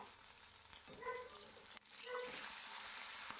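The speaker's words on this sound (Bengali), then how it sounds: "কড়াইতে সর্ষের তেল গরম হয়ে গেছে, তার মধ্যে এবারে একে একে মাছগুলো আমি ভেজে নিচ্ছি" Bhetki fish pieces fry in hot mustard oil in a kadai, a soft steady sizzle with a few brief spatters and clinks of the pan, quiet and close.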